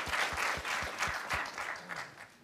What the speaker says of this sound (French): Et je vous demande aussi d'applaudir Klaus Welle